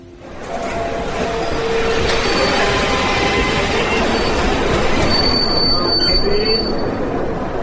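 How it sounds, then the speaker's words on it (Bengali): A train pulls into a station as a radio-drama sound effect, steady loud rumbling of wheels on rails with high metallic brake squeals near the end, no voices. "ট্রেন এলো 10 মিনিট লেটে।"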